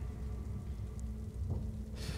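A rain downpour in the dark horror game Little Nightmares: a continuous, fairly faint patter and hiss of heavy rain and dripping leaks runs steadily through the short stretch.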